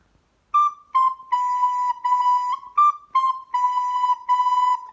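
A recorder plays a short phrase of clear tongued notes stepping downward, with repeated short and held tones in a steady rhythm.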